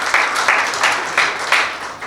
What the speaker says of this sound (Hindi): मैं आपसे अनुरोध करूंगा पहले आप उनके लिए तालियां बजाएं